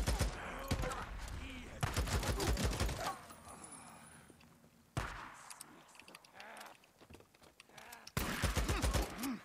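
Loud gunfire in Days Gone comes in dense cracking bursts, then a sharp shot midway and another heavy volley near the end, with quieter ambient game sound between.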